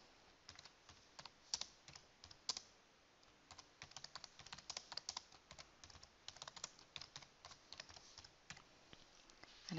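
Someone types a document title on a computer keyboard. Quiet, irregular key clicks come in quick bursts and pauses, close to the microphone, with no voices.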